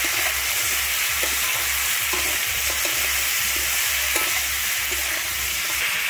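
Potatoes and eggplant with salt and turmeric being stirred in a pan, a steady loud sizzle with a repeated scraping stir through the whole stretch and no voices.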